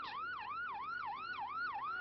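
A wailing emergency vehicle siren sweeps up and down in steady repeated cycles, loud and close, arriving at the scene of an attack in Israel in July 2002.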